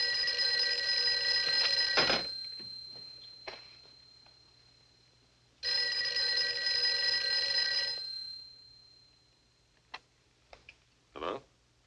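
An old telephone rings in two long, loud, shrill bursts separated by a pause, followed by faint clicks and small knocks of the receiver being handled.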